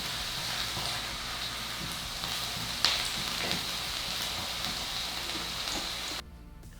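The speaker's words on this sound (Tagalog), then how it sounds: "At una nating igigisa itong bawang." Garlic sautéing in a hot pan, a steady bright sizzle and crackle running throughout at moderate level, with a faint clink of stirring near the middle before the sound cuts off at the end.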